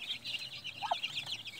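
Chicks of various ages peep in a steady high chorus at close range, with a brief lower cluck standing out partway through.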